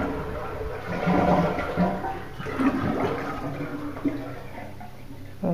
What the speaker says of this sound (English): So we're going to flush the toilet.